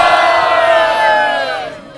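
Large crowd at the Seawall in Cavite City cheering and shouting together in one loud sustained roar that tapers off near the end.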